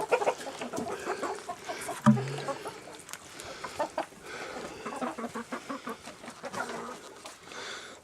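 Several chickens clucking in irregular bursts nearby, with a low murmuring cluck in the middle and scattered soft noises around them.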